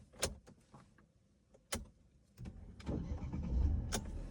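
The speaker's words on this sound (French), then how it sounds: "Donc c'est parti, démarrons le véhicule." A Mercedes C-Class 180 CGI with a 1.8-litre petrol engine starting up, beginning with a few clicks and a door or window sound, then the starter and engine catching into a steady, fairly loud idle.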